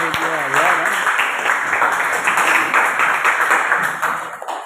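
Students clap for a classmate during a geography lesson in a classroom, with a brisk, fairly loud burst of applause that runs throughout and fades a little at the end.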